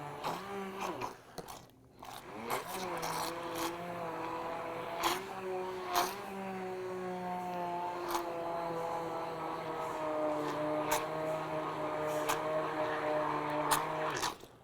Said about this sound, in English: we increase the speed of the immersion blender